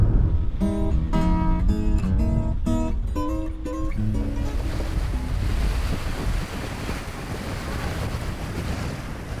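Waves wash onto the shore at Ballfield Beach in the Jamaica Bay Wildlife Refuge at high tide in spring. A steady, broad rush of surf and wind fills the clip, with a short tonal melody ringing over it at the start.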